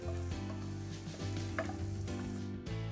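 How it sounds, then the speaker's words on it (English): Pan deglazed with a splash of wine after frying red snapper fillet, giving a steady close sizzle and bubbling with light stirring, alone without talk. "I'm just adding a little just to deglaze our pan"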